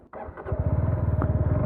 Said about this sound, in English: So let's switch on the bike.